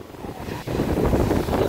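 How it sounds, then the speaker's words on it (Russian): North Sea surf rolls in nearby on a beach at Scheveningen, Netherlands, a soft wash that swells into a louder continuous rush of breaking waves, mixed with some wind. "Море."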